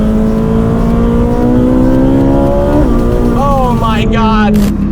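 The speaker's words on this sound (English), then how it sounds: "the Speciale, flicking downshifts, the sound of this V8" A Ferrari 458 Speciale V8 screams under hard acceleration, its pitch climbing steadily before quick downshifts blip the revs, loud and close throughout, with a voice talking over the engine.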